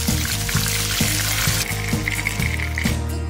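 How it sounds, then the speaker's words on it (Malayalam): Chicken frying in hot oil for chicken chukka gives a steady, close sizzle that runs the whole time over a regular low thumping pulse. "ഫ്രൈ ചെയ്തെടുക്കാം."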